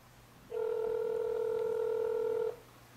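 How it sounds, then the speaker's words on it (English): A regular iPhone 4 call placed on speakerphone gives a single steady ringback tone lasting about two seconds, moderately loud against a quiet room with no talking. "So I'm going to call him normally first."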